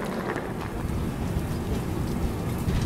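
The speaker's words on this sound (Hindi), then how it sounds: "बारिश हो रही है" Steady rain pours down at a train station in Maharashtra, a dense, even hiss throughout with no talking and a low rumble underneath.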